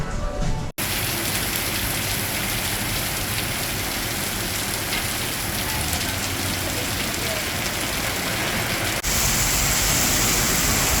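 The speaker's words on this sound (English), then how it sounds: "it's raining really hard in Singapore right now" Heavy rain pours down in Singapore near Changi Airport, a dense, loud, continuous hiss of drops on surfaces that lasts the whole stretch with no talk, broken only by a brief cut near the start.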